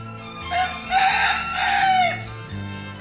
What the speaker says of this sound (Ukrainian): Вірно, це півник.